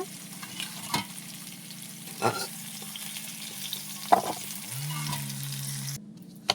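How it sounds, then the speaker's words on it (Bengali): Potatoes frying in hot oil in a pan make a loud, continuous sizzle, punctuated by sharp clinks and scrapes of stirring, close by and with no voices, before the sizzle cuts out near the end. "আলুগুলো ভেজে নিয়েছি, তুলে নেব।"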